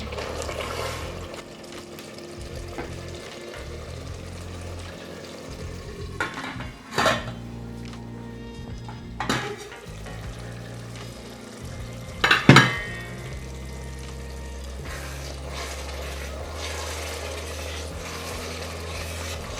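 Food sautéing in a pan on an Ethiopian home stove, with water splashed in a little at a time: a steady close sizzle broken by sharp clanks of a spoon against the metal pan.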